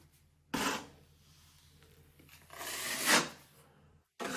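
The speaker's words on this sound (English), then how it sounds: "Now I'm just going to pull the knife across to gently" A taping knife is drawn across joint compound while patching doorknob damage in drywall, giving soft scraping strokes with quiet gaps between them, close and fairly faint.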